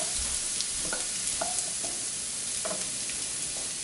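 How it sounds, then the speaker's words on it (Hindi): Garlic sautés in a pan with a soft, continuous sizzle, marked by a few light clicks and scrapes of stirring over about four seconds; no voices. "अब इसमें डालेंगे हम गार्लिक, लहसुन, इसको भी अच्छे से चला लेंगे ताकि ये थोड़ा सा पक सा जाए हमारा लहसुन।"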